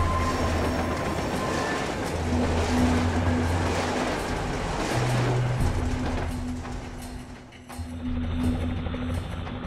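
A moving train rumbles and clatters steadily with sustained low tones and a rushing wheel noise, loud and continuous for the whole stretch.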